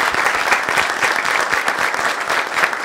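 Dense, steady applause from a studio audience on a Turkish talk show, many hands clapping close together in a continuous wash with no voices over it.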